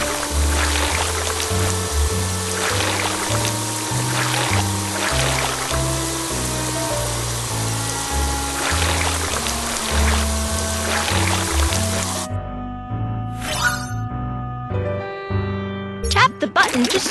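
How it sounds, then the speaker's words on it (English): A water sprayer rinsing mud off a car in a BabyBus children's game plays as a steady, cartoonish gushing hiss over a looping music bed, then stops near the end as brief jingles take over. "First, drag the water sprayer to rinse off the mud."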